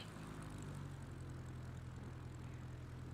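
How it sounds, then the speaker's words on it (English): A simulated Giba SU26MX with a 360 hp nine-cylinder engine and three-blade propeller in Microsoft Flight Simulator gives a steady, loud, droning propeller hum that holds even and unbroken throughout. "having to be really careful with the 360 horsepower engine here, because the torque here with the 3-blade and 9 cylinders is quite dramatic"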